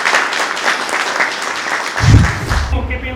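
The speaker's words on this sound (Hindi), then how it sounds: "चलिए तालियों के साथ" Applause at a Raksha Bandhan event, a scattered patter of clapping from a group that runs through most of the moment before a thud and the start of other sound near the end.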